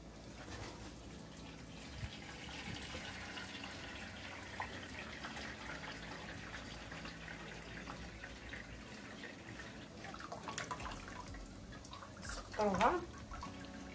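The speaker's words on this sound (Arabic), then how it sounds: "سقطروها من الماء بهذا الشكل هذا ونخوها" Cooked vermicelli drained of water, heard as a faint, steady trickle and patter of liquid with a brief louder splash near the end. A voice talks softly underneath.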